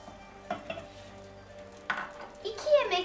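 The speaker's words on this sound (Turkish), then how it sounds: "Birazcık tereyağımızı eritmek için buraya tenceremize koyuyoruz." Soft sizzling and frying as butter melts in a pot, with a few light clinks and stirring taps; a gentle crackle rises toward the end.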